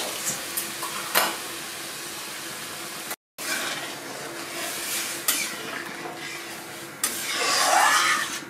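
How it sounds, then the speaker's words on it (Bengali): Dry chillies, bay leaf and cumin sizzle in hot oil for a dal with gourd and stems, a steady close crackle with stirring scrapes, a brief dropout midway and a louder hiss swelling near the end. "আমার তেল গরম হয়ে গেছে, দিয়ে দিচ্ছি শুকনো লঙ্কা, তেজপাতা আর জিরে।"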